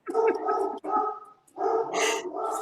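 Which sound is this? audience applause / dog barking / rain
dog barking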